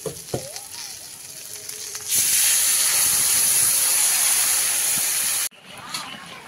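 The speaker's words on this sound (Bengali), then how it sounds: "এবার জল দিয়ে দেবো।" Water poured into a hot pan of fish and taro curry made with pangas and tengra fish, bursting into a loud, steady steam hiss and sizzle for about three seconds before cutting off sharply, close up over quiet kitchen background.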